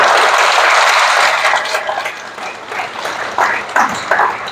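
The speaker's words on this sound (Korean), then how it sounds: "박수 부탁드립니다." A crowd at a June Democratic Uprising memorial ceremony in Seoul Anglican Cathedral applauds with steady, dense clapping that gradually thins out, leaving a few scattered claps near the end.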